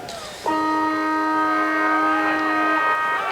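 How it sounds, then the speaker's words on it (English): A loud, steady siren blares as one long sustained tone for a couple of seconds over a distant crowd murmur at a Mansfield v Shepp Bears football match, then cuts off. "There goes the siren."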